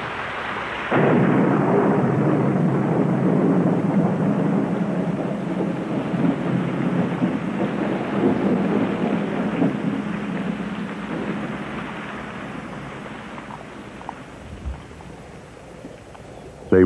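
A thunderstorm rolls over the Serengeti plains: a low roaring wash of rain and wind begins abruptly and holds steady, slowly easing, with rumbling thunder and gusts buffeting the microphone.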